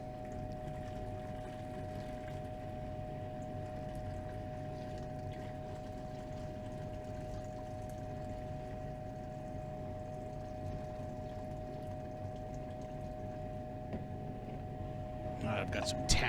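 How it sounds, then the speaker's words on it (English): Waste lye-and-sugar solution left over from refining silver-plated wire is poured off into a waste container. The liquid gives a faint, steady rushing flow that runs on unbroken, with a few small clinks at the very end. "I'll just pour off this waste solution"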